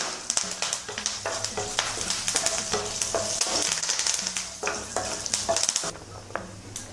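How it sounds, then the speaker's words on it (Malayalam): Whole spices, dried red chillies and curry leaves stirred in a hot pan for tomato rice: steady crackling sizzle with repeated scraping strokes of a spoon against the pan, close and fairly loud, easing off near the end. "കൂടെ വറ്റൽമുളക്, കറിവേപ്പില. നന്നായിട്ടൊന്ന് മിക്സ് ചെയ്ത് കൊടുക്കാം."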